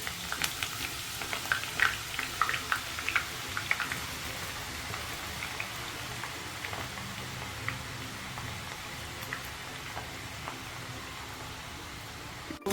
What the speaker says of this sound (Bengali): সসপ্যানে তেল ঢেলে এই পেঁয়াজগুলো দিয়ে দিচ্ছি।